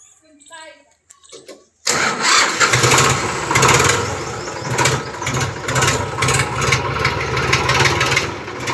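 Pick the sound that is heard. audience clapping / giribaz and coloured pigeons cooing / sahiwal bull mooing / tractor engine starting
tractor engine starting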